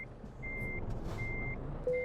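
Reversing beeps from a truck in the driving game Euro Truck Simulator 2 sound as steady, evenly spaced electronic tones over a low engine rumble.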